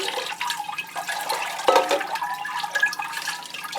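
Reverse-osmosis water poured from a glass onto a plant potted in coarse bark, a continuous close splashing and trickling flow that swells briefly midway, with no talking.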